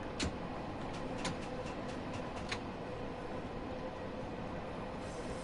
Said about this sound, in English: so you can actually hear the train.